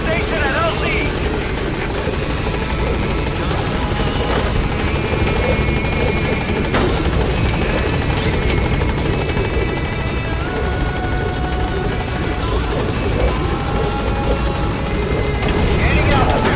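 Pequod, a transport helicopter in Metal Gear Solid V: The Phantom Pain, hovering at a landing zone, its steady rotor and engine drone continuous and fairly loud, with game sounds and a voice over it.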